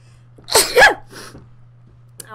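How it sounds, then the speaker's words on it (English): A single sharp human sneeze bursts out close and loud, followed by a faint breathy trailing sound and quiet background hum. "Cause I don't wanna have a sneezing fit on stream."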